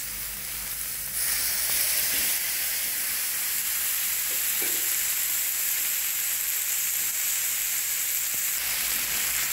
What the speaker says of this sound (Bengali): পনিরটাকে এবার 2 মিনিটের মতন সাঁতলে নেবেন।